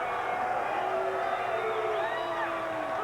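An arena crowd at a wrestling event reacts to Ric Flair's title win with a sustained roar of mixed voices and whoops, loud and unbroken throughout.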